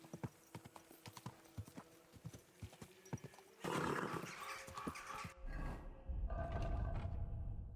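Horse hooves clip-clop in a steady rhythm, close by, then the sound grows louder and rougher with rustling and wind-like noise.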